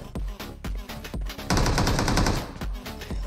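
Gunfire in the mobile battle royale BGMI (PUBG Mobile): sharp, loud single shots in an uneven rhythm, broken by a second of sustained automatic fire, close to the listener.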